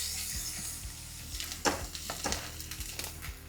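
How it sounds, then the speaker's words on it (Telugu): Chopped onions, cloves and a green chilli fry in a pan with a soft, quiet sizzle, broken by a few light scraping stirs and clicks of the utensil. "సన్నగా తరిగి పెట్టుకున్న ఉల్లిపాయలు, ఒక పచ్చిమిర్చి వేసి ఒకసారి కలిపి ఉల్లిపాయలు మంచిగా వేగనివ్వాలి."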